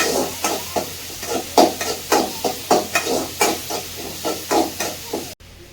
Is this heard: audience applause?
no